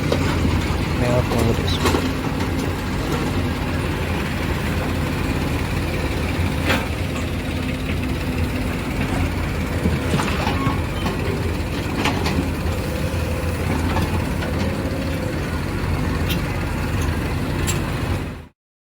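A tractor engine rumbles steadily and loudly throughout as it loads at a hilltop field in Meghalaya, with background noise and occasional voices mixed in.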